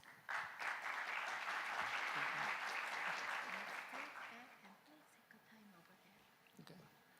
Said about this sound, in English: Let us welcome him to the podium with a big round of applause.